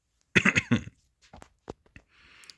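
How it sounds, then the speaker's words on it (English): Throat clearing during a Harry Potter and the Sorcerer's Stone game playthrough, a few harsh close-up rasps in quick succession, followed by softer scattered noises and a faint background hiss. "Had to clear my throat."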